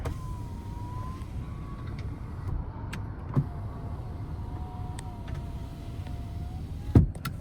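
Power windows on a 2016 Lincoln Navigator L, front ones auto up and down and rear ones manual, run with a faint, steady electric motor whine, broken by a couple of soft clicks and one sharp thump near the end, with no talking.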